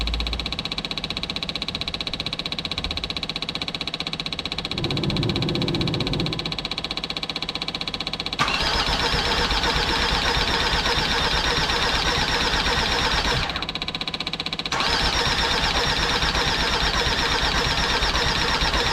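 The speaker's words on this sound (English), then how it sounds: "I'm gonna try swing it a few times and let's see if it will" A Jeep Grand Cherokee WJ with a newly fitted 2.7 CRD OM612 diesel engine, struggling to draw fuel from the tank, cranks on the starter in two close, loud, steady bursts of about five seconds each, with a short pause between and no catch.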